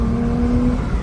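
A stock BMW 335i engine revs hard and steadily up close, a loud sustained roar with a strong tonal drone holding throughout the second, no voices over it.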